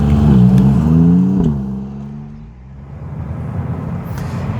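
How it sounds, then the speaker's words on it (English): Maserati MC20 twin-turbo V6 revving hard close by, a rising and falling engine note that fades into a lower rumble, with no talking. "it fires into life with a guttural roar and a satisfying exhaust crackle"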